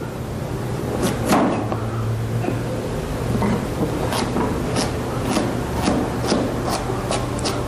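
Knife slicing a carrot lengthwise in two on a board, a continuous rasping cut with scattered crisp ticks as the blade works through, over a low background hum.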